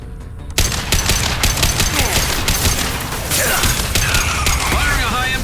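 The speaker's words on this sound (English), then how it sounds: "Firing a high-impact shot!" Dense, loud gunfire in the video game Mass Effect Legendary Edition, rapid continuous automatic bursts with a sharp onset and sustained clatter throughout, accompanied by game effects and possible faint voices underneath.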